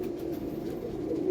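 Pigeons coo in a low, soft, continuous murmur close by, a brief steady warble with no other sounds.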